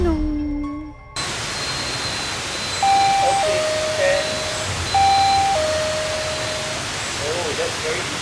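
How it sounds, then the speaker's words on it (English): An electronic sensor chime sounds a two-tone ding-dong twice, fairly faint, over heavy background hiss at night in Batang Kali, Malaysia, with a brief spoken word at the start. "One of the sensors went ding dong."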